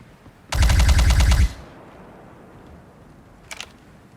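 A cannon in the Star Citizen video game fires a rapid burst of loud repeated shots lasting about a second, followed by quieter background and a brief distant impact.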